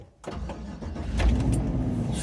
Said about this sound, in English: 6-liter engine just cranked up on my Chevy Class C motorhome.